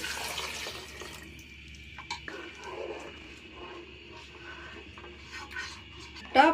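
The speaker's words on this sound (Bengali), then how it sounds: "আমি এগুলো প্যানে বসিয়ে চার কাপ পানি দিয়ে দিব" Water poured from a tap or jug into a pan holding ginger and Thai leaves for a Thai soup, a light running splash with brief pauses and a louder burst at the end.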